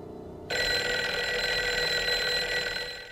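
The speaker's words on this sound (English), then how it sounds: "Dead, and then the phone rings." An old telephone bell in the film Chinatown bursts into a loud, continuous metallic ring that starts abruptly after a moment of quiet and keeps going steadily close by.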